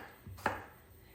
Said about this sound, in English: So just roughly chop them, and I'm going to put them into the bowl as I'm doing so